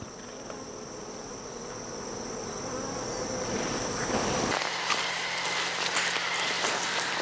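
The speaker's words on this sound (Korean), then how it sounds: "여기는 또 육아권이라서 벌이 좀 더 많이 붙어 있는 걸 보실 수 있을 겁니다" Honeybees buzzing on brood-area hive frames during winter preparation of the colony; a steady dense hum up close that grows louder and then changes tone, with no talking.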